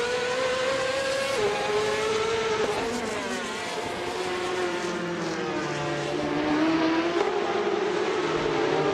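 Ferrari 355 Challenge race cars lapping the Ricardo Tormo circuit in a racing game, engines wailing at high revs with rising and falling pitch as they shift through gears, loud and continuous with several cars overlapping.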